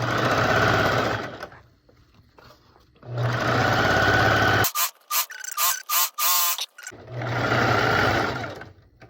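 A sewing machine stitches horsehair braid onto a circle skirt hem in two long steady runs, a stretch of short stop-start stitching between them, then a third run.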